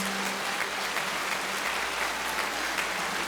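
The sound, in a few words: audience applause at gala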